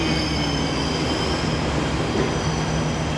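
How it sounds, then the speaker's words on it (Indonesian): Jakarta MRT train running, a steady loud rumble of rolling wheels with faint squealing tones, continuous throughout with no talk. "akhirnya kita ber MRT lagi"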